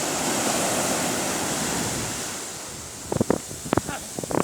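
Sea waves break on the shore at Alanya in winter, a broad continuous roar of surf with wind noise, with a few short voices and splashes toward the end.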